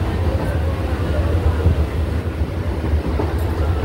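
A Bangaon–Shantipur local passenger train runs with a steady, loud low rumble and rolling rattle throughout, arriving at Shantipur station, with no clear talk over it.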